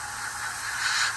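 A light spray of paint hisses onto a 1/144 scale Takom plastic model kit of the Lun class Ekranoplan, a steady, close, even hiss lasting about a second with no talk over it.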